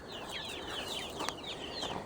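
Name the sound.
chickens clucking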